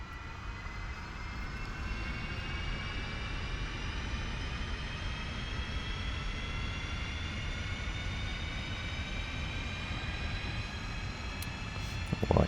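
Left engine of an F-5E Tiger II jet starting up in the DCS World flight simulator, a steady rising turbine whine with rumbling roar that holds loud and continuous throughout.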